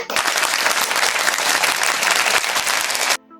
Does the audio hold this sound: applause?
yes